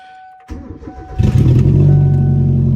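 A car engine fitted with a hood stack cranks and catches, then rises into a loud, throaty rev and settles into a rough, rumbling idle, heard up close with no talking.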